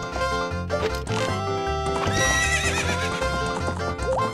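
Hoofbeats and a whinny from a horse in Zelda: Ocarina of Time Master Quest on GameCube, heard briefly under busy, loud game music with no talking.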